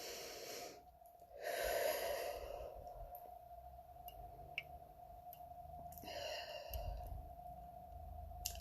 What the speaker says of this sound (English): We're going to take 3 deep breaths in.